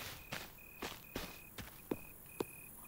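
Footsteps in a horror video game: six evenly spaced, crisp steps about half a second apart, close and fairly quiet, over a faint steady background hum.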